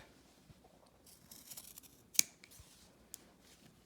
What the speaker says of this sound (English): You do need scissors. And you're going to cut off the majority of this.